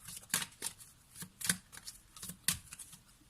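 Tarot cards shuffled and cut by hand in a series of crisp riffling bursts and soft slaps, close and clear with short pauses between, no voices.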